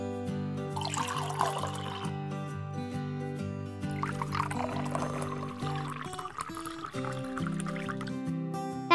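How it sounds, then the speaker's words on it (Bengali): Water poured into a spiced batter for crispy eggplant fritters (beguni), a steady splashing trickle with light music playing underneath. "এবার দিয়ে দিব পানি।"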